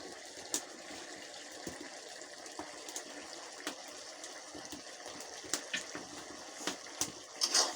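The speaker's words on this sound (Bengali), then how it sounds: "একটু পানি দেওয়া হচ্ছে" Water poured into a pan of shrimp and bottle gourd curry makes a soft, continuous gushing splash with a few small knocks, quiet and alone.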